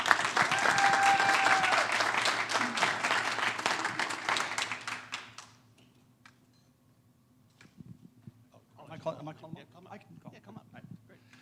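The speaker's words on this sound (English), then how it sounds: "So big round of applause for our Naperville North Girls Water Polo." Audience applause at a school district board of education meeting honoring a girls water polo team, loud dense clapping for about five seconds that fades out, followed by quiet room noise and a voice speaking.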